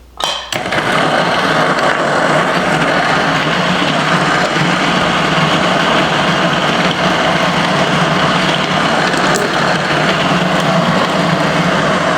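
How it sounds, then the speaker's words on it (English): A home espresso machine pulls a shot, giving a steady, loud pump hum and hiss that runs continuously for about twelve seconds after a sharp start, with no talking. "we're gonna go ahead and pull our shot of espresso"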